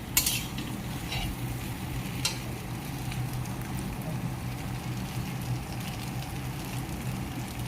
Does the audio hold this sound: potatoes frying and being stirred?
yes